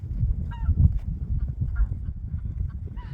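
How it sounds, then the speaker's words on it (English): Geese on a cold winter farm give scattered, nasal honks, some near and some farther off, over a low wind-buffeted rumble, with no talking. "Look how handsome that one goose standing up in the middle there is."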